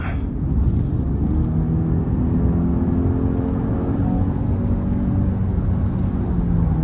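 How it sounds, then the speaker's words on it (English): A 2024 Genesis GV80 2.5T engine revs hard as the SUV accelerates in sport mode, a loud, steady rumbling drone with road noise, rising slightly in pitch from inside the cabin. "I didn't want the engine to rev that high"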